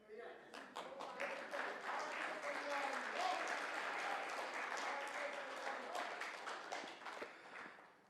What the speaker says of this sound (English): I'm going to start walking towards the podium while you guys clap